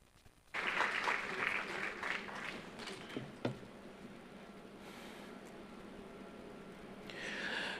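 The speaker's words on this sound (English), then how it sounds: "shall we give them a round of applause, ladies and gentlemen?" Audience applause after a panel discussion of startup investors at a festival, a steady crowd clapping that begins abruptly, holds evenly for several seconds and gradually thins out.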